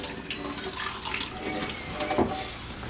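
Tap water runs steadily into a kitchen sink while rice is rinsed, giving a continuous close splashing hiss with small gurgles and no voices.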